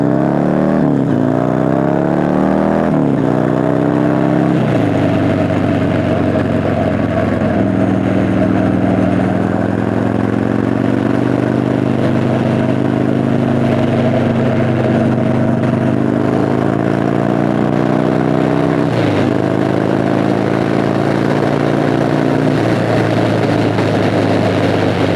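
A Confederate X132 Hellcat Speedster motorcycle engine revs repeatedly, rising and falling in several loud throttle blips over a steady idle, close up.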